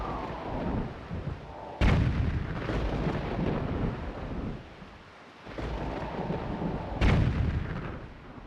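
Bombs explode in The Legend of Zelda: The Wind Waker, with two sharp, heavy booms several seconds apart, each followed by a rolling rumble that lingers between the blasts.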